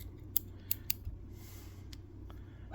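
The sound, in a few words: trimming excess material with a cutting tool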